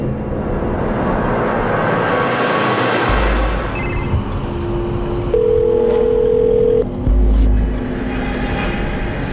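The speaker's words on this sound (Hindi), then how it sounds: "पता नहीं शबनम, मैं तेरे अब्बू को कब से फोन लगा रही हूँ, फोन नहीं उठा रहे।" A telephone ringback tone sounds at close range in a quiet room, a steady electronic tone held for about a second and a half and then followed by a shorter repeat.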